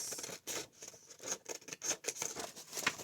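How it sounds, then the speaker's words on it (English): Scissors cut folded paper in a close, quiet series of short snips and rustles, repeating irregularly with no talk. "You're going to cut it in half. Cut it at the folds."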